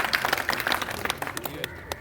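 Audience applause at a public gathering, a dense wash of many hands clapping at moderate loudness, with some voices mixed in under the clapping.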